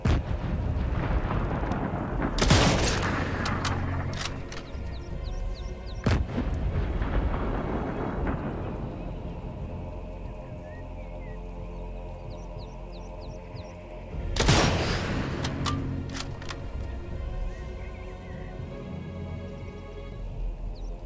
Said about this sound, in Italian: altro colpo di cannone.